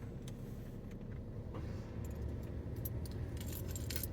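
A car engine idles as a low, steady rumble heard from inside the car, while keys jingle lightly and intermittently near the end; faint and fairly even throughout.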